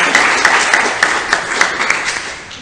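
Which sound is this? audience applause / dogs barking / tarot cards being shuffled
audience applause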